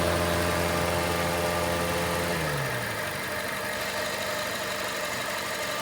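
A stock 2000 Honda car engine idles roughly and a little shakily with its cooling fan running, a steady close mechanical drone whose tone shifts partway through, with no talking.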